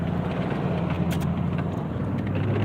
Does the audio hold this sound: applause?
no